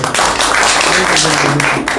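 Audience bursts into brief, dense clapping close by, loud and continuous throughout a short round of applause.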